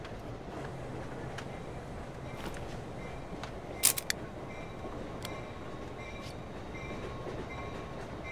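A moving train in the video game Irony Curtain, a steady rumbling rattle of rail cars with faint clicks and a sharp metallic clank midway, continuous and fairly close.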